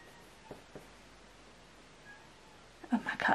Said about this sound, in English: Cat's making a weird noise.